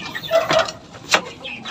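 Shamo and Burmese breed fighting chickens giving a few short, close clucks, with a faint bird call in the background.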